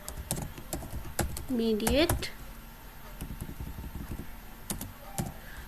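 Computer keyboard typing in an HTML editor, a run of quick light key clicks under someone talking nearby.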